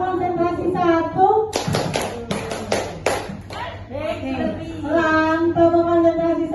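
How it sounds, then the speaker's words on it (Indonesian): A classroom group claps for a teacher in several quick bursts of sharp hand claps lasting about two seconds, with a speaking voice before and after. "tepuk tangan dulu untuk Ibu Keti"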